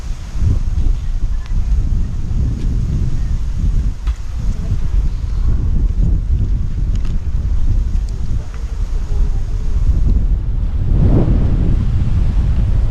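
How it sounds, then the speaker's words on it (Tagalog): Strong wind roars steadily into the microphone outdoors in the Philippines, a constant low rumble and buffeting throughout, with no speech. "sobrang hangin dito"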